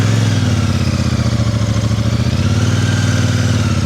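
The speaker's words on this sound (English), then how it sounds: "Yeah, it's really quite easy to ride slowly, this bike." Royal Enfield Meteor 650 motorcycle rolling at near walking pace over a gravelly surface, its twin-cylinder engine thumping steadily at low revs, close and continuous without any voice.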